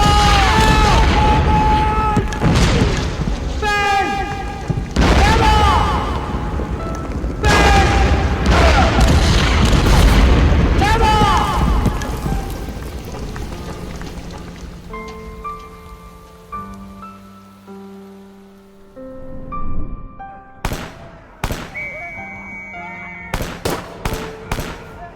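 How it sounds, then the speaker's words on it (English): Heavy rumbling World War 1 artillery bombardment explosions and crackling bursts pound continuously, then fade to a lull before a few sharp, isolated blasts crack out near the end. "Do you hear that? What? Bombardment!"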